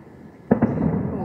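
Fireworks bursting outdoors at an evening display: two sharp pops close together, then a sustained rumbling crackle, with people nearby reacting.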